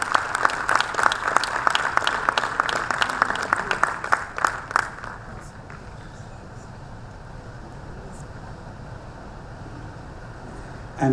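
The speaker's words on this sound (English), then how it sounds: "A big round of applause as we welcome sir to the podium." Loud applause from a conference audience welcoming a speaker to the podium, with rhythmic claps filling the first five seconds before fading out into quiet room tone.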